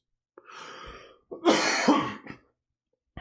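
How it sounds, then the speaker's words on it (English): A few harsh coughs and throat clearing close by, in short bursts separated by pauses. "Coughing, not so much."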